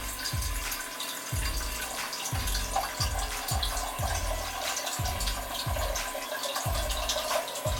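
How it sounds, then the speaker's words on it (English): Water running steadily from a tap into a pot for watering a plant, a continuous splashing flow with a regular rhythmic gurgle underneath, close and alone without talk. "So this is how I just turn it on, and I get the water out of it."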